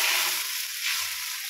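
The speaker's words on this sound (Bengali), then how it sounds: "মশলাটা একটু কষিয়ে নিচ্ছি।" Whole cumin seeds, bay leaf and dried red chili frying in hot oil, giving a steady, close, bright sizzle that holds level throughout with no voices.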